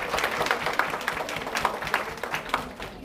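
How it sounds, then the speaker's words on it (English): Audience at a keynote event applauds with dense, continuous clapping, fairly close and steady, with some crowd murmur mixed in. "Clap it up for that."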